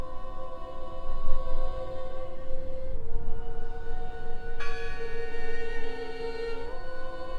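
A bell rings in the video game Draugen, a bright struck tone with lingering partials rising over a steady, droning ambient soundscape.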